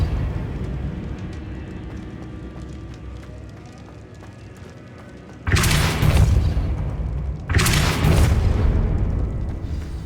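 A Depulso spell in Hogwarts Legacy, a video game, blasts a barricade with two heavy booming impacts about two seconds apart, each bursting loudly over a low ambient game background.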